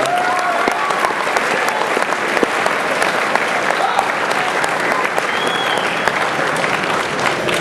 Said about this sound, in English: Please, one more round of applause for our guests.